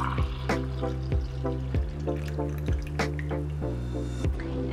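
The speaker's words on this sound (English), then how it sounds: "I'm gonna pour this into my little cup." Warm golden milk, a turmeric latte, is poured into a small cup, making a close, steady liquid stream with a rising filling tone and regular gurgling glugs.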